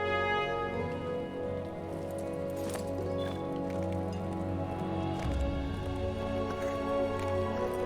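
Steady rain falls in the LOTRO game world, a constant wash laid over layered game music and ambient tones, with occasional soft clip-clop steps and no talking.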